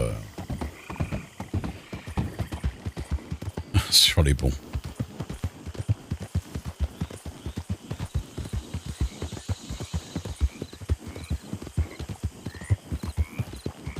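Horses' hooves clop in a steady, close rhythm on a bridge, with one sharp whinny breaking through partway, while people speak French over the hoofbeats.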